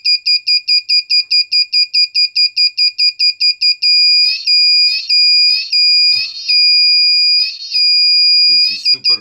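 A homemade four-component electronic buzzer circuit with a blinking LED beeps in rapid, evenly spaced shrill pulses, then shifts to a steady tone broken by short warbling bursts, loud and close.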